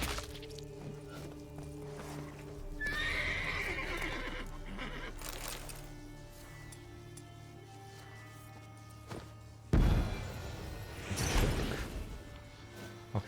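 A horse in the Witcher 3 video game whinnies loudly after having a bomb thrown at it, with hoof clops and game effects around it and a sharp crash late on.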